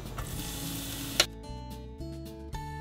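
Onion frying in a pan for Russian stuffed cabbage rolls, a loud broadband sizzle that cuts sharply after a clatter near the middle, leaving a quieter, softer hiss with a few light stirring knocks.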